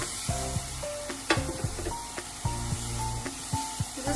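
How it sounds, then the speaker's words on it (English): White sauce pasta with milk stirred over a low flame, a soft sizzle broken by irregular spoon clinks and scrapes against the pan. "keep stirring it so that we don't have any type of lumps"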